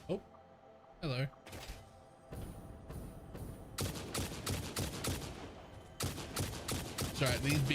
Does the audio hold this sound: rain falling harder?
no